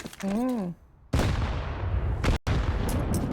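Grenade blasts in a Counter-Strike match on the Overpass map at an esports league game: a brief voice, then a loud, booming explosion with a long rumbling tail, cut off by a second heavy blast.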